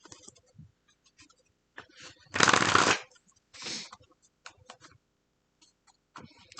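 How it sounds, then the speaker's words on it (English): A deck of playing cards is riffle-shuffled once in a quick, crisp burst, followed by a softer second shuffle, amid quiet table sounds during a card game. "Shuffle again."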